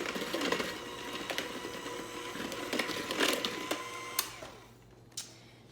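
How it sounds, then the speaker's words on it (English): Hand mixer whirring through pancake batter in a kitchen, a steady close motor hum with bowl clatter, trailing off as it stops near the end. "we're gonna mix this with a hand mixer"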